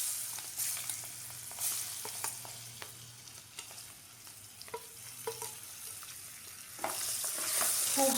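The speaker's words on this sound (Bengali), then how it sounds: "খুব হালকা করে চিংড়ি মাছগুলো ভেজে নেব।" Shrimp fry in hot mustard oil in a wok, a continuous sizzle punctuated by repeated spatula scrapes and stirring clatter, close and moderately loud.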